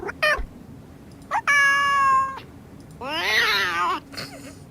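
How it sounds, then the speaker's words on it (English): Two real-life cats meow on a handheld recorder playback in a Nancy Drew game: several distinct meows, one short and sharp, one long and drawn out, then a wavering, rising-falling yowl, all close and clear over quiet hiss. "with a handheld recorder, you're about to hear 2 different cats, real-life cats, who really lived with the Reuters"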